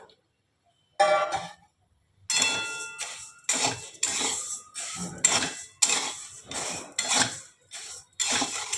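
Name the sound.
mung dal being dry-roasted in a pan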